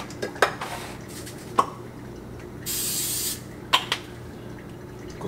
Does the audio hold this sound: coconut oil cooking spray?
yes